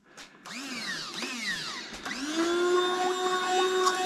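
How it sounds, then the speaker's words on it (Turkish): An electric blender whirs up repeatedly, its motor pitch rising and dipping in short bursts before settling into a steady high whine, running to churn homemade butter. "o blenderla da şöyle bir onu parçalayabiliriz"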